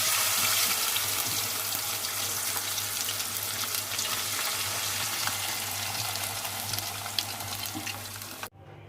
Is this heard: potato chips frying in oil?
yes